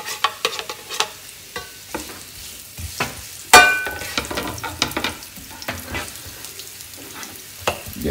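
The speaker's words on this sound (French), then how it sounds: "Notre huile dans notre poêle, on va y ajouter les oignons qu'on a très grossolement coupés." Coarsely chopped onions dropped into hot oil in a frying pan for Italian meatballs in sauce, a steady close sizzle broken by sharp clinks and scraping stirs, one louder clatter partway through, no talk.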